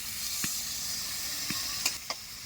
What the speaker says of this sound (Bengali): সবজিটা কষানো হয়ে গেছে, এবার জল দিয়ে দেবো।